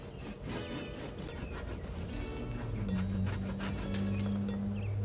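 Shears or a small saw cut through the woody stem of a nursery plant being topped for bonsai, giving a steady close rubbing, scraping sound with a low hum underneath.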